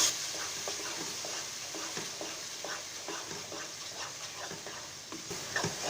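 A spoon stirs suji milk halwa in a pan over high heat, giving repeated rhythmic scraping strokes over a soft continuous sizzle, close and moderately quiet.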